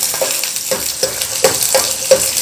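Garlic sizzling in a hot pan for sprouted moong soup, a steady frying hiss broken by six or so sharp stirring scrapes spaced about half a second apart, close and fairly loud with no talk.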